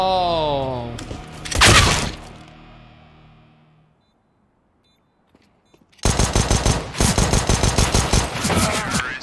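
Gunfire from the game Counter-Strike: Global Offensive: a loud burst near the start, a quiet gap, then a long run of rapid automatic shots, with some talk early on.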